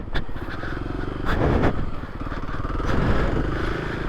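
A 2024 Kawasaki KLX300 dual-sport motorcycle engine drones steadily as it is ridden off road, rising and swelling twice into louder revs, close and continuous with no talk.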